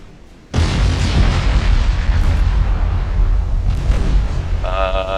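Naval gunfire in the naval warship game Ultimate Admiral: Dreadnoughts: a sudden loud cannon boom gives way to a sustained rumbling roar, with a second blast later and a brief electronic tone near the end.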